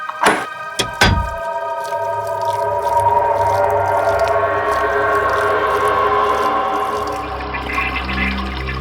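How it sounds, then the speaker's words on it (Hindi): Water runs from a bathroom basin tap left open in a basement, a steady rushing flow that follows a couple of sharp knocks at the start and carries on alone at moderate loudness. "ये देखो, किसी ने बाथ बेसिन का नली खुला छोड़ रखा है।"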